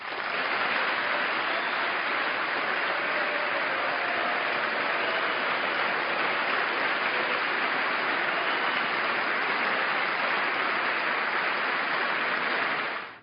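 Steady, dense applause from a large audience rewarding a line about creating American jobs, sustained evenly and loudly for about thirteen seconds with no talk over it.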